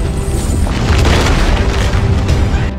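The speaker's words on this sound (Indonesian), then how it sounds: "seketika Pulau Hidup Abadi menjadi meledak" A huge explosion as an island blows apart, a dense roaring boom filling the whole clip with broad rumbling noise, loud and sustained without pause.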